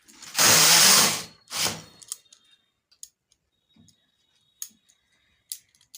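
Knitting machine carriage pushed across the needle bed with red wool, two loud sweeping rattling passes followed by scattered small clicks and ticks.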